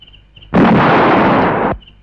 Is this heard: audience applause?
no